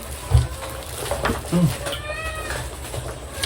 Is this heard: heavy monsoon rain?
no